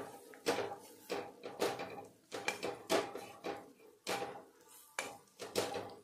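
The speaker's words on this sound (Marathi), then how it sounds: "आता हे सर्व आपल्याला इथे छानपैकी मिक्स करून घ्यायचं।" A spoon scrapes and clinks against a metal pan in a repeated stirring rhythm while roasted besan flour is mixed, close and moderately loud, with no talking.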